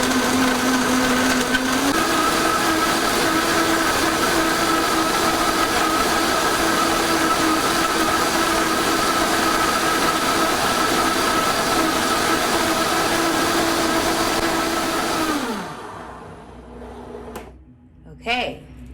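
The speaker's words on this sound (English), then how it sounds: "So we're gonna go ahead and blend that up and see what we end up with." Blender whirring steadily as it blends matcha drink ingredients, a loud continuous motor drone with one pitch shift early on, running about fifteen seconds before spinning down and stopping.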